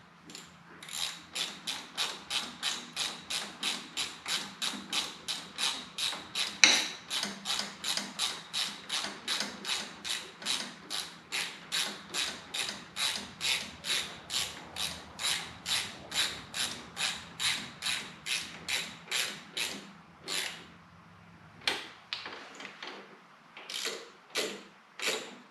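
A ratchet wrench snugging bolts on a 1979 Harley-Davidson Shovelhead 80-inch engine: a long run of rapid, even clicks close to the mic, pausing briefly near the end before a few final clicks.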